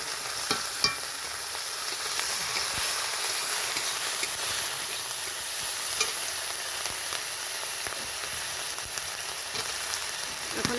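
Ginger-garlic paste frying in a pan for a mushroom curry, a dense, even sizzle with occasional stirring clicks, close and steady for the whole stretch, no voices.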